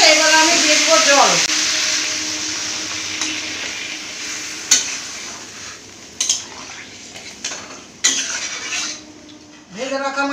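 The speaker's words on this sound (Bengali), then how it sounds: "এবার আমি দিয়ে দিব জল।" Water poured into sautéed masala with salt and kasuri methi in a pan, a loud hissing rush that settles into bubbling sizzle, with clinks and scrapes of a spoon against the pan and a brief voice.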